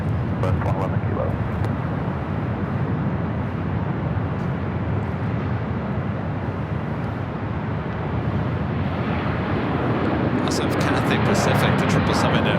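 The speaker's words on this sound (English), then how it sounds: "the 777 rolling down 25 right on the south side" A Boeing 777 rolls down runway 25 right on the south side of LAX, a steady loud jet engine roar that holds throughout and swells slightly near the end.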